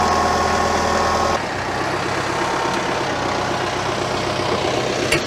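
A forklift engine running loud and close while it moves a solar battery, with a constant heavy drone and a drop in tone partway through.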